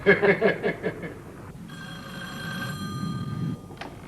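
A telephone bell rings in rapid repeated bursts, then sounds as a sustained ring over a low background hum, close and fairly loud.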